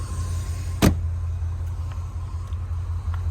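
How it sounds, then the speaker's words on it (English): The hood of a 1981 Corvette slammed shut with a single sharp thud over a steady idling engine hum, close by, followed by quieter faint clicks. "Now we're going to close the hood"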